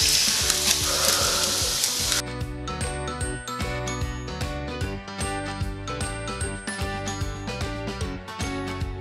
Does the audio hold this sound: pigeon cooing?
no